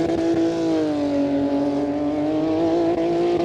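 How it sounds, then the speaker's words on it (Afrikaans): Self-built off-road racing car at the Coligny 200 event, its engine holding a loud, steady drone with strong harmonics throughout, close by and continuous with no talk. "Pragtig klink daai motor."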